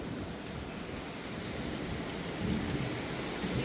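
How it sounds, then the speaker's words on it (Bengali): Heavy rain pours steadily outside an open window and balcony, a dense constant hiss with a low thunder rumble swelling up in the second half; no one speaks. "বিভৎস ভাবে বৃষ্টিটা হচ্ছে"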